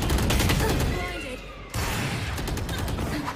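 Rapid gunfire in a competitive shooter video game, dense bursts of shots, a brief lull, then more sustained firing, loud and close, with a player's voice under it.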